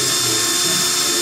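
A drill whining continuously as it bores out a broken exhaust header stud on a Chevy Cobalt SS with DeWalt bits, loud and close, high-pitched and steady throughout the short burst.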